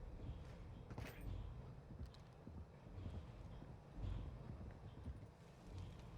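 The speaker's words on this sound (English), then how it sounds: "now I hear footsteps on the other side of the bunker, but they're slow moving" Slow footsteps scuff and thud in a bunker in the video game Call of Duty DMZ, landing as soft, irregular steps at a moderate distance.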